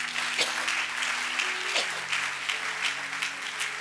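A church congregation applauds for Jesus during a French-language sermon, steady broadband clapping filling the whole span, with a few voices and sustained tones beneath it.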